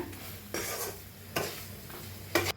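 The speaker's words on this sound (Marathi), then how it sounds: "एक मिनिटभर असंच हे करून घेऊया हलवून" Potato and okra curry is stirred in a pan, three distinct scraping bursts of the spoon rising over a soft background sizzle, close up with no voices.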